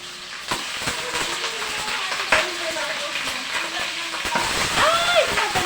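Chicken frying for minudong manok, with hot oil sizzling and spattering in sharp pops over a constant hiss, close by, while someone talks and exclaims over it.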